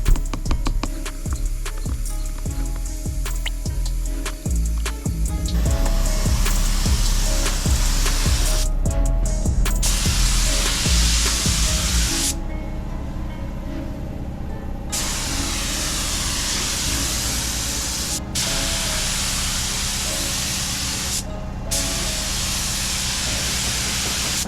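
Chameleon color-shifting metallic flake paint sprays in a steady, loud, continuous hiss, broken by several short pauses between passes as coats go on.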